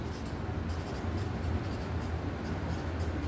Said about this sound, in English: I can write that down.